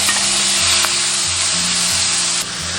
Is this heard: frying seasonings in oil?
yes